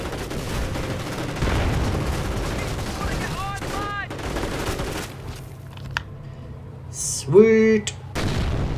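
Mortar shells and blasts rumble through a Company of Heroes: Opposing Fronts World War II battle, dense booming impacts and gunfire mixed with music, with a voice speaking briefly over it.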